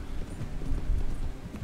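Horse galloping in the Red Dead Redemption video game, a quick run of soft hoofbeats over a low rumble, brief and moderately close.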